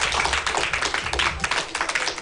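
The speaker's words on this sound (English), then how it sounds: "a round of applause from me." Children clapping a round of applause after a story in a TV storytelling session, quick uneven claps close by, moderately loud and steady throughout.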